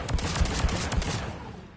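A semi-automatic Carnifex Phalanx pistol in Mass Effect 3 fires a steady series of single sharp shots, about four or five of them and evenly spaced, close and loud with a ringing tail.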